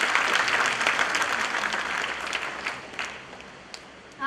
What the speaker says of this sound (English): have a loud round of applause for Sri Balan Nambiar.